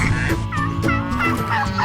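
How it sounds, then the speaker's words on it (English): Farm turkeys call in a dense, warbling chorus of gobbles, loud and close, mixed with other fowl. "turkeys"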